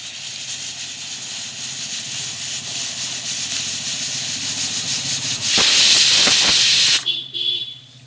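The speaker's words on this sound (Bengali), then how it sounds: "সিটিটা পড়ে গেছে।" A pressure cooker cooking chicken curry in a village kitchen: a rough, steady hiss builds, then a loud, bright blast of escaping steam sounds for over a second before cutting off sharply, with no voices.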